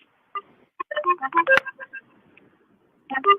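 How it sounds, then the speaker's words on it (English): A phone rings in a short melodic burst of electronic tones, pauses, then starts again, fairly close and clear with no talking. "Hold on, it's ringing right now."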